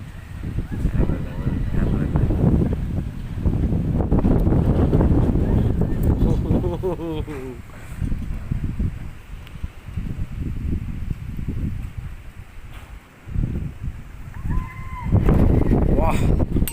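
Strong night wind outdoors on a trek buffets the camera microphone with heavy low rumbling gusts that rise and fall. Someone talks over the wind throughout.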